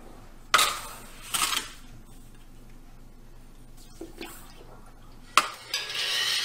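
Sugar being added to a large pot of goat milk for cajeta: a few sharp scraping, pouring clatters of a scoop and pot, separated by quiet pauses, with a longer rushing pour at the end, close by.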